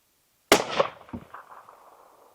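An old Winchester Model 70 rifle fires a single loud, sharp shot outdoors, followed by a rolling echo that fades out over about two seconds.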